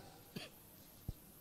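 Two short, faint coughs from a person recovering from a recent illness, spaced about a second apart, over quiet background hiss.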